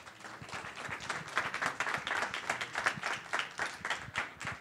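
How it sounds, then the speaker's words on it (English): An audience at a Latinas in gaming event gives a round of applause, a lively, uneven clapping with individual claps poking out of the crowd sound, rising and falling in waves over several seconds. "So please, big round of applause"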